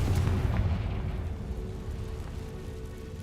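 A Confringo blasting spell in a Harry Potter video game: a booming low burst right at the start that decays into a rumbling tail over a few seconds.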